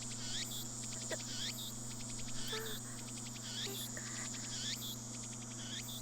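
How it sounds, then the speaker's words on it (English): Cicadas chirp in the Steins;Gate visual novel game, a rhythmic series of fast, bright trills repeating about once a second over a constant low hum. The sound stays steady and moderately quiet throughout. "The only sound is the chirping of cicadas."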